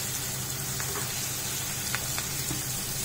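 Tortilla laid over butter, cabbage and tomato slices on a hot sizzler plate crackles with a steady close sizzle, broken by a few sharp pops.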